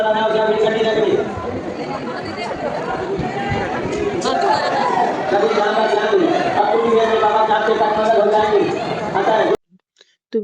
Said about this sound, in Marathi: बघू शकता इथे खूप जास्त गर्दी होती